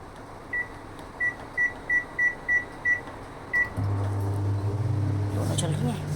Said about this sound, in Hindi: लगा देती हूँ उसको माइक्रोवेव पर